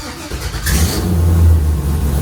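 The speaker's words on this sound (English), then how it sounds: "I'm going to start the car" A car engine cranks and catches, then settles into a loud, rumbling rev close by, with no voices.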